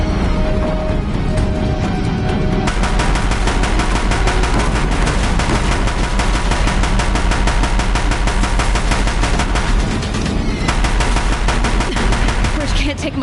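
Heavy sustained gunfire at a bridge in Horizon Zero Dawn, a loud dense machine-gun-like rattle of rapid shots that barely pauses, with crashing impacts mixed in and a brief voice.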